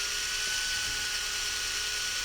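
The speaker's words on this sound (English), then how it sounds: "Next we'll get our little mixer here" A drill fitted with a small mixer attachment whirs steadily while mixing epoxy resin, a continuous high-pitched motor whine held at constant loudness for the whole stretch with no voices.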